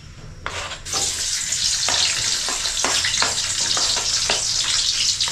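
Onions sizzle loudly in hot oil in a pan, a steady close hiss with repeated scraping bursts as they are stirred, no voices.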